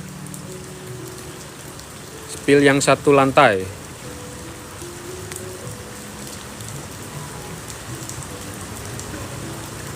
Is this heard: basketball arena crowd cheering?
no